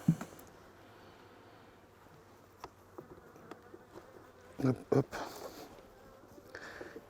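Faint, steady buzzing of honeybees at an open hive close by, broken by a few sharp handling clicks and a couple of short spoken words.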